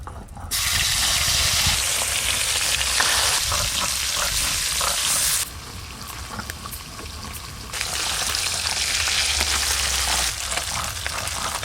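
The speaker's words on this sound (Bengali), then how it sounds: "পুঁটি মাছগুলোও 2বার করে ভাজতে হবে।" Puti fish fry in oil with a loud, dense hissing sizzle that dips in intensity for a couple of seconds midway, then resumes strongly, heard close and without speech.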